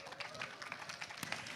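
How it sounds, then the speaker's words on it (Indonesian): Faint, brief applause from an audience at a Puma Indonesia running event evening, a soft crackling patter of clapping with a slightly sharper burst near the end. "Tepuk tangan buat Puma Indonesia teman-teman."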